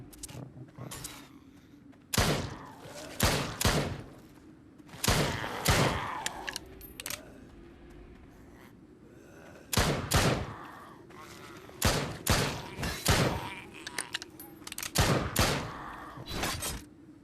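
Bursts of gunfire from the Spawn of the Dead game, fired at zombies. Sharp loud volleys come in repeated clusters, separated by short quieter gaps.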